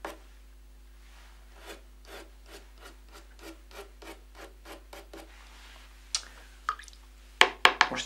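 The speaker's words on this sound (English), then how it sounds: "So you can draw these long, fine grasses with masking fluid." A pen draws long, fine grass lines in masking fluid on watercolour paper, giving a series of soft, evenly spaced scratchy strokes, followed near the end by a few sharper knocks and taps.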